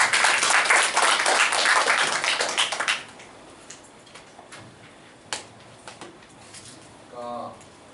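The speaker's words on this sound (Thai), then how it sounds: "ขอเสียงปรบมือ" Seminar audience applauding, a burst of many hands clapping for about three seconds that ends abruptly, followed by a quiet room with scattered small noises and a brief voice.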